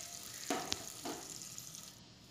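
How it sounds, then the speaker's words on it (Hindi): Onions frying on high heat in a pan, a faint steady sizzle with a few soft scraping stirs, heard up close with no talking. "देखिए प्याज हमारा भुनने लगा है।"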